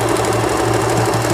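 A Usha Janome sewing machine stitches steadily along a fabric edge, its fast even whirring and needle chatter carrying on nearby without pause and with no talking.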